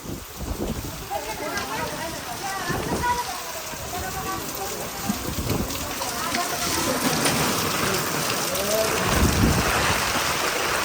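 Steady rain falls beside the Yamuna river during a flood in Vrindavan, a dense broadband hiss with gusting wind, while a voice speaks intermittently over the wash of water.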